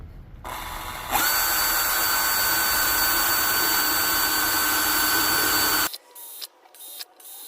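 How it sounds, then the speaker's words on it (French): A power drill bores 10 mm holes through tin cans, its steady high whine running continuously for about five seconds before cutting off, followed by brief clattering handling noises. "Il va falloir maintenant percer des trous de 10 mm."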